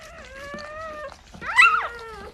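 A newborn Goldendoodle puppy cries loudly in a few high, wavering whines: one long cry, then a sharper, louder squeal close by.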